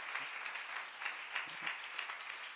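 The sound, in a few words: church congregation applause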